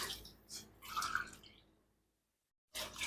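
Water poured for mutton biryani, in bursts of splashing and dripping: short pours around the first second and a half, a fade to silence, then a fresh loud pour at the end.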